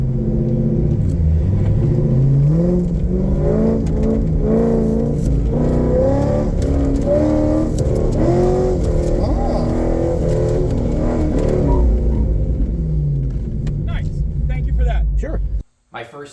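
A car drives a slalom on the Pitt Race track during a high-performance driving event, its engine droning loud and close with rising and falling revs through the turns, a person talking over it, before cutting out abruptly at the end.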